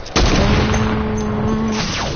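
Gunfire in the video game Fortnite: one loud, sudden blast followed by a sustained roaring tail with ringing tones, close and dominant throughout.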